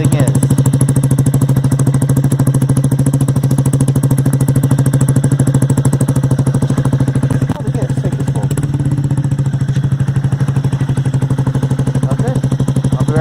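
A Honda Grom fitted with an SC Project exhaust idles close up, with a steady, buzzy pit-bike putter that holds even throughout, broken only by a brief dip and a few light clatters partway through.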